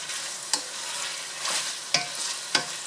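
Pork frying in a pan with seasoning, a steady close sizzle broken by four sharp scraping stirs spaced about a second apart, with no talk.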